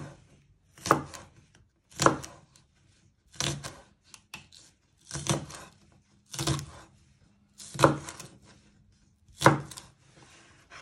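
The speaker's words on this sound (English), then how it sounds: "So you just chop off by where the green bit starts, or this bit, and you trim the ends, and you want to finely slice them" Knife chopping through spring onions on a cutting board: seven distinct, sharp clustered bursts of cuts, evenly spaced about a second apart, close and fairly loud with quiet gaps between.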